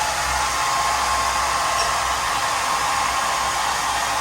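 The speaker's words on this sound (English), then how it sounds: "Every good vet will have a hair dryer." A hair dryer blows steadily to dry a blood slide at a bird vet clinic in Melbourne, a loud continuous whooshing hum with no variation and no talk.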